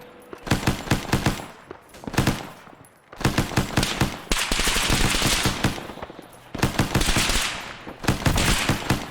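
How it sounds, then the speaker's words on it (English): Automatic weapons fire in the military shooter Arma 3, with repeated loud, rapid bursts separated by short pauses and one longer sustained volley in the middle. "So he's shooting at the players down there."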